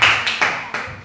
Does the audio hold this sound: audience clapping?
yes